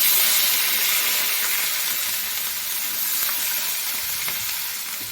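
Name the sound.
cumin seeds and onion frying in oil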